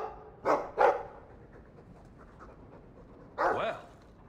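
A dog gives two short close barks in quick succession, then a pause of soft background and a third bark with a whimpering tail, breathy and near.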